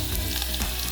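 Onions fry in a pan for pasta misto with a loud, dense, continuous sizzle and a faint stirring scrape, heard up close without any voices.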